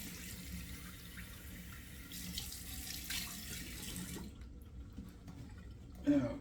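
Cold tap water runs steadily into a sink and is splashed on the face after a wet shave with a Carbon 316 razor. The flow stops partway through, and a short voice sound follows at the end.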